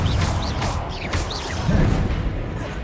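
A fiery Confringo blasting spell is cast in a wizard video game: several whooshing swishes and explosive bursts follow one another, loud and close, with crackling impacts between them.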